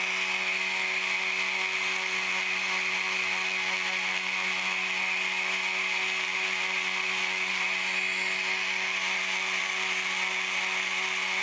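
A rotary tool spins at low speed while prepping a rhino sculpture, giving a steady, continuous whine with a constant pitch and a faint mechanical buzz, held throughout without any talk.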